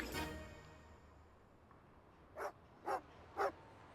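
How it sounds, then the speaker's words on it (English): A dog in the Genshin Impact game barks three times in a quick, evenly spaced row, moderately loud, after a brief fading sound at the start. "Glad that nobody else followed the sound of the dog the barking."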